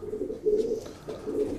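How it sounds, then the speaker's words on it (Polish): Racing pigeons in a breeder's loft cooing in soft, low, repeated rolling calls, close by and moderately loud, two or three coos with brief pauses between them and no voices. "Praktycznie 35 gołębi chyba sprowadziłem oryginalnych od Reppera"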